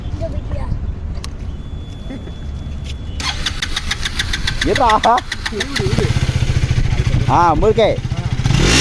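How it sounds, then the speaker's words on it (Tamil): A KTM Duke motorcycle engine starts and revs, its exhaust note rising in two sharp bursts before settling into a steady, loud idle, with people talking over it nearby. "இதுல எப்படி எக்ஸாஸ்ட் சவுண்ட் கேக்குன்னு பாக்குறியா?"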